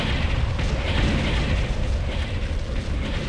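Rumbling explosions from an enemy structure being destroyed in the real-time strategy game Ground Control, forming a dense, continuous roar of booms and blasts that fills the whole clip.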